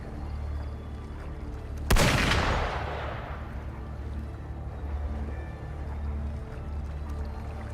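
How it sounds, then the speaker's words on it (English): Single loud burst of gunfire in the game Darktide/Wuthering-style shooter setting, a sharp broadband crack near two seconds with a long decaying tail, over a steady low ambient rumble. "Gunfire! We've got intruders."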